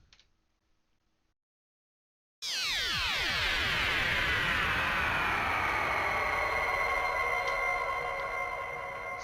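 A synthesizer tone bursts in after near-silence and sweeps across the stereo field from left to right, a dense swarm of gliding, falling pitches that stays loud and sustained to the end.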